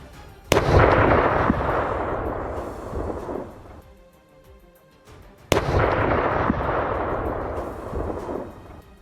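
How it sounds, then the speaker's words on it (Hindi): Two powerful explosions a few seconds apart at a street intersection, one right beside a yellow bus, each a sudden sharp blast followed by a long roaring rumble and debris noise, loud and close, with no voices. "इसी दौरान पीले रंग की एक बस के बिल्कुल करीब जोरदार विस्फोट हो गया"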